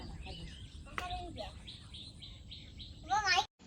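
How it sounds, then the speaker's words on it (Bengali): Birds chirp outdoors on a sunny day with a string of short, bright tweets and a louder burst of calls near the end, partly under nearby talk and a voice. "পাখির আওয়াজ শুনেন।"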